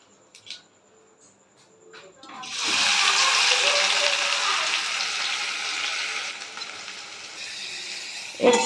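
Chopped onion goes into hot oil that already holds dried red chillies, and a loud, broad sizzle surges in after a quiet start, holding steady and then easing slightly.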